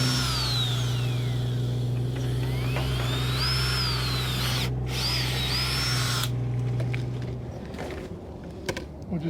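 A power drill fitted with a hole saw spins and bites, its whining motor rising and falling in pitch over a steady hum, then cutting off and leaving quieter clatter.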